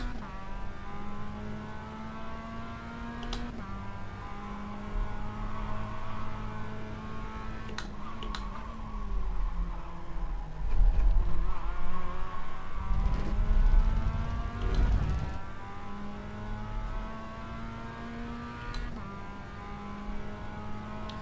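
A race car engine in a sim racing video game drones and revs continuously, its pitch rising and falling through gear shifts, with a louder burst of acceleration midway before settling back to a steady hum.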